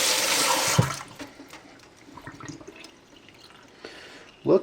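Water runs from a tap as a rusted Victorinox Classic blade is rinsed, a steady broadband wash at the start that drops to quieter trickling and drips, with a brief louder splash at the end.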